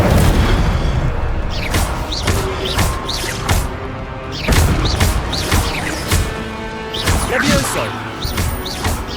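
Fiery spell blasts from Hogwarts Legacy combat on PS5 burst repeatedly, loud booms and crackling whooshes hitting in rapid succession with impacts and smashes between them, spread across the whole stretch.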